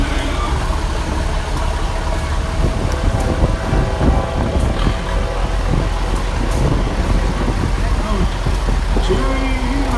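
A 1969 Minneapolis Moline G90 antique tractor rolls past in a parade, its steady mid-pitched engine rumble continuous and fairly loud, mixed with wind and crowd noise as voices chatter nearby.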